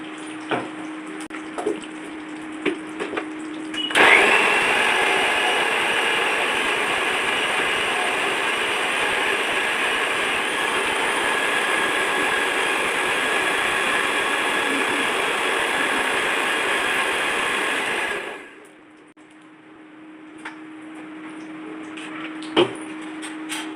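A kitchen mixer grinder runs for about fourteen seconds blending a cooled onion and tomato paste, a loud steady whirring motor that starts abruptly and cuts off, with quieter kitchen clatter before and after.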